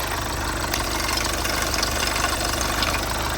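A Volkswagen Passat B8 engine idles steadily up close after a cold start, a continuous low rhythmic chugging with no talk.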